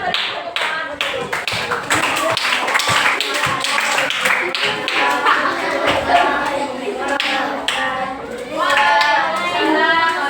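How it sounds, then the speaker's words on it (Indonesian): A classroom of students claps for a presenting group during an Islamic religious education lesson, with close, steady handclaps mixed with voices throughout. "terima kasih untuk kelompok kita beri tepuk tangan untuk"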